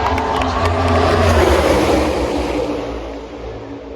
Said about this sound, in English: it's Austin Dillon on the extreme bottom lane, leading the pack off turn 4, still 4 wide